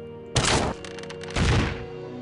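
Two hard thudding impacts about a second apart as something is shot and broken in Might and Magic 9, each a broad burst with a short tail, set over a steady low game hum.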